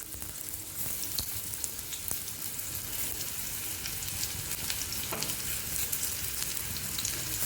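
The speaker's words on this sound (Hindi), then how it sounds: "अब हम एक एक चिचिड़े की सब्जी को इसके अंदर, तेल के अंदर डाल देते हैं।" Stuffed snake gourds sizzle and crackle steadily in hot oil, a dense, even frying hiss with occasional louder pops throughout, close and with no voices.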